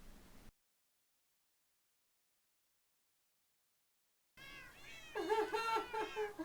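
Minecraft cats in a village meow in a run of several close, wavering calls after a long stretch of silence, preceded by a short burst of low noise.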